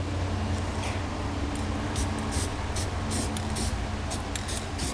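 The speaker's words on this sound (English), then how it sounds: "we'll take some spray paint and go along the inside edge where our bare metal is" Spray paint hisses in repeated short bursts onto the bare metal of a 2017 GMC Sierra truck bed's cut edge, close and loud over a steady background hum.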